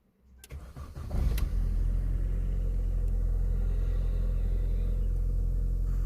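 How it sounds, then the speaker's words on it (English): A Mini One's engine cranks and catches, in neutral with the handbrake on, then settles into a steady, loud, close idle rumble that carries on without a break. "Let's start the engine"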